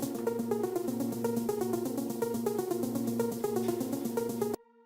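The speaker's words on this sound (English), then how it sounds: "So that's the snare sound." A snare drum pattern plays back within a melodic techno track, tight rhythmic hits repeating evenly over layered synth tones, loud and dense before cutting off abruptly near the end.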